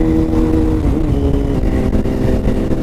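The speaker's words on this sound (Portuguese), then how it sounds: "estamos aqui na Yamaha FZ6, são os primeiros quilómetros que eu estou a fazer na moto" A Yamaha FZ6 motorcycle engine drones steadily at close range, its pitch shifting slightly as the bike rides along, with rushing wind noise mixed in.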